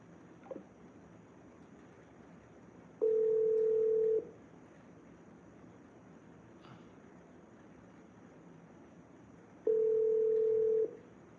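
Two long, flat electronic ring tones on an unanswered telephone call, each lasting about a second and separated by a long quiet gap over faint line hiss.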